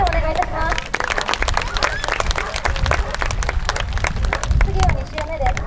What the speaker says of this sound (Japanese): 皆様拍手をお願いいたします